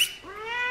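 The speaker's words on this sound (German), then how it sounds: "Katze kommt." A domestic cat meows once nearby, a short rising, tonal call that swells slightly toward the end, heard alone in a quiet room.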